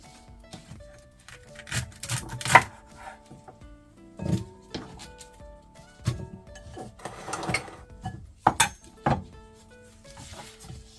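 A knife cutting washed celery on a board for juice, giving a run of crisp, uneven chops and snaps near the listener, with clatter from other kitchen handling in between.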